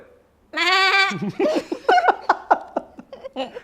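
A person imitates a goat with a loud, drawn-out bleat, then breaks into a series of rhythmic bursts of laughter.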